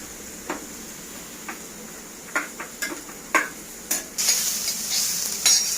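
Onion stir-frying in an iron pan with a spiced tempering, a quiet sizzle punctuated by sharp scraping and tapping strokes of a spatula, growing into louder hissing near the end, close up with no talking.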